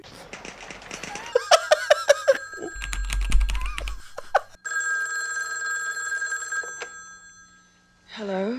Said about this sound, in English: Sis, get me Captain Over's wife on the phone